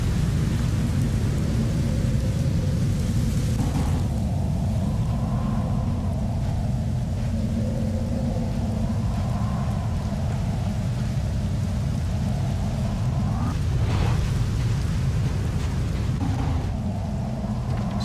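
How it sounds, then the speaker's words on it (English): Steady heavy rain with rolling thunder in the video game Clive Barker's Undying, a continuous loud downpour with low rumbles building and two sharper thunder cracks near the middle and end, no voices. "Oh, that's beautiful rain."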